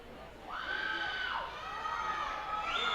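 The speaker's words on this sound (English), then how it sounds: "Crowd getting excited, would certainly like some run support." Minor league baseball crowd at a Binghamton Rumble Ponies vs Reading Fightin Phils game, fairly faint cheering with rising whoops and high shouts swelling over a couple of seconds.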